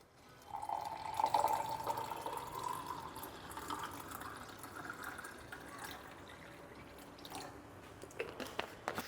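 Cold water poured onto lemon juice and homemade Eno makes a soda: a steady pouring stream for several seconds, then a soft fizz with scattered crisp bubbly pops, close and fairly quiet.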